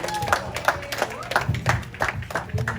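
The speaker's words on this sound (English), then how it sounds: "Give her a round of applause." Audience applause at the Summer Heritage Workshop 2021 closing ceremony, a close patter of individual claps mixed with voices, short and fairly even.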